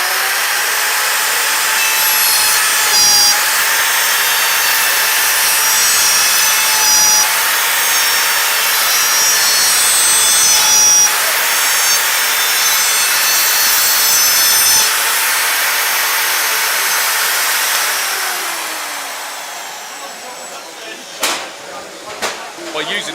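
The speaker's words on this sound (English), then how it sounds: "We're then ready to make the dovetail cuts." A handheld router on a Trend dovetail jig screams loudly and continuously as it cuts wooden dovetails, its pitch dipping slightly with each pass, then winding down to a stop near the end.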